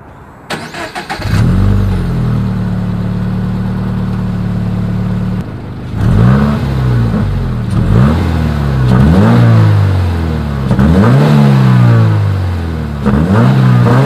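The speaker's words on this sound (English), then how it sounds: "Here is that 2020 Toyota 86 exhaust clip." A 2020 Toyota 86 engine starts, idles steadily, then revs hard several times in sharp rising bursts, loud and close with a throaty exhaust note.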